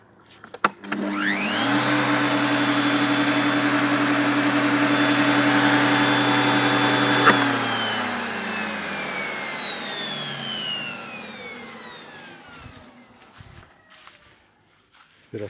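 Two quiet garden machines, one of them a Viking GE 140L, switch on and spin up to a steady, even whine that holds for several seconds, then winds down and fades out, with no talking.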